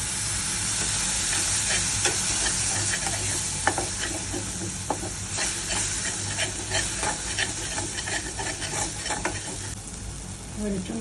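Okra cooks with spices in a hot pan for a Bengali dherosh chorchori, a continuous close sizzle under a dense series of spatula scrapes and taps as the mixture is stirred.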